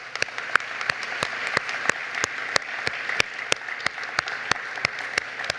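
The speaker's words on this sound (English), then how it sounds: "he deserves a round of applause" Applause from a conference audience at a closing ceremony, honoring the event's organizer, with steady dense clapping broken by sharp individual claps throughout, moderately loud and sustained.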